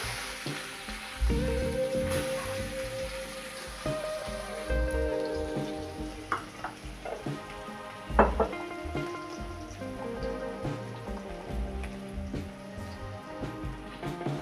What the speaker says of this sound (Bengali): এবার দেবো জিরে পড়ে এবার দিয়ে দিচ্ছি কুচনো পেঁয়াজ